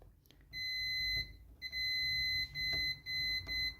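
A multimeter continuity tester beeping while testing shorted MOSFETs on a circuit board, a high electronic tone sounding in four short bursts with brief gaps and faint clicks beneath.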